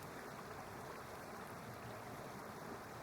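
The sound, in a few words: waterfall sound effect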